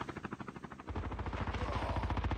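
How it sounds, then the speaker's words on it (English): Helicopter in the Call of Duty: Mobile video game, rapid rhythmic rotor thumping that grows louder and heavier partway through, close and steady. "There's a helicopter."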